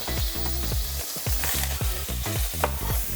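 Oil sizzles and crackles steadily in a hot pan, with repeated clanks of a utensil stirring through it and no voices.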